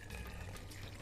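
Water poured into a blender for fresh guava juice made from peeled guava flesh, a steady close splashing and trickling pour that fills the short moment without any voices over it.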